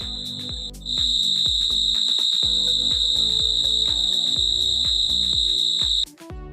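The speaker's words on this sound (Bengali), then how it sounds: "এটা ঝিঝি পোকার ডাক, বাইরে কি বীভৎস ডাকছে," Crickets chirp outside on an evening, a loud, steady high-pitched trill running almost the whole time, with rhythmic low thumping beneath it.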